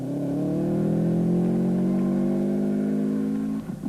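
A raspy 2-litre BMW race car engine revs hard and loud on a circuit in the Tour Natal, a sustained high-pitched howl with steady rising harmonics that holds for nearly four seconds before briefly dropping off.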